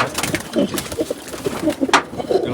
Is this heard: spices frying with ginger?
no